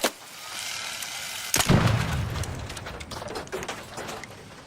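Gunfire in a video game: one loud, sharp shot with a rumbling tail, then quieter mechanical clicks and rattles.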